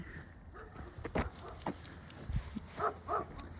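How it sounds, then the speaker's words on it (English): A dog barks and yips somewhere off in the distance during an outdoor evening walk through a Vermont town, a few faint, scattered calls over a low street hush. "Dog barking over there."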